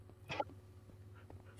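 A dog whimpers in a Minecraft-style video game, a short soft whine rising near the start and then fading into faint game background noise.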